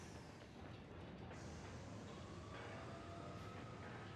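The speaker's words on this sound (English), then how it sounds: "Oh, train departed." A train departing in the Bayonetta video game, a steady loud rumble of rolling wheels and machinery that holds evenly throughout with no voices.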